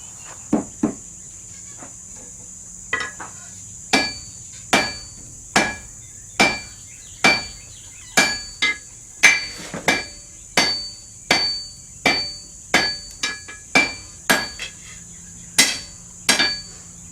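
A heavy 10-pound hammer strikes a sword blade being forged, ringing out in a slow, steady series of loud metallic blows with short pauses, while a constant high insect-like whine runs underneath.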